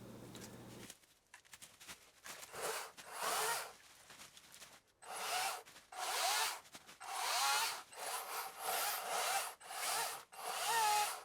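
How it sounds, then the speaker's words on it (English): A chainsaw cuts dead balsam fir trees, each cut a loud, rasping burst that swells and fades, with short pauses between the repeated cuts. "I decided to give this saw a run on a couple of dead balsam firs near my house."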